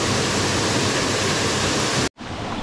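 Buderim Falls waterfall pours in a loud, dense broadband rush that holds steady, then cuts off sharply and returns more softly near the end.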